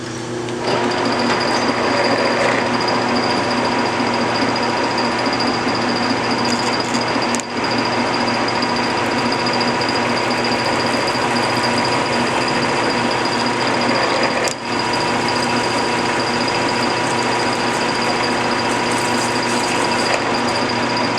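A drill grinds through metal with a steady, droning whine that runs continuously without a break, loud and close.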